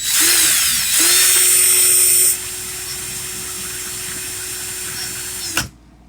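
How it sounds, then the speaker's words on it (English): A power drill running in reverse whines steadily at close range for several seconds, its pitch dropping partway through, then cuts off abruptly. "put the drill in reverse"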